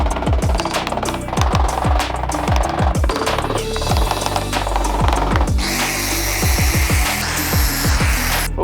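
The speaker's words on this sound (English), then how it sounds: "I'm really liking the hammer and chisel method." A hammer drives a chisel to chip seam sealer off the metal body of a salvaged-title GR Supra, sharp repeated metallic strikes in an irregular rhythm, close and loud.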